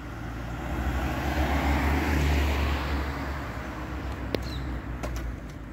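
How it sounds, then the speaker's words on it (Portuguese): A tuned mobylete moped with a flooded carburettor revs hard nearby, a loud, steady buzzing engine drone swelling and easing over several seconds, with a few faint sharp clicks near the end. "Acelera tudo, que agora que afogou, vai pedir pra acelerar o carburador inteiro"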